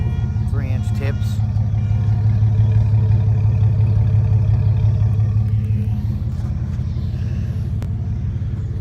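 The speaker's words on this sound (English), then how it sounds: "At an idle, you can't hardly tell it's a V6" A 1998 Chevy C1500 pickup with a 4.3L V6 idles through a Flowmaster Super 10 muffler and 3-inch tips, giving a steady, loud, deep low rumble that holds even throughout.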